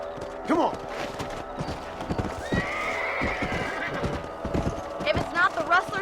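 Horses galloping and neighing in the video game Red Dead Redemption, a rapid run of close hoofbeats with loud whinnies rising over them, voices also audible.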